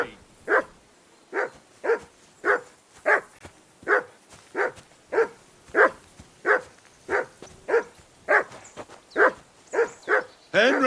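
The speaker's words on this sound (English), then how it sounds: "Call off that mutt of yours!" A dog barks in a steady, evenly spaced series of about eighteen sharp barks, close and clear, in the medieval video game Kingdom Come: Deliverance 2.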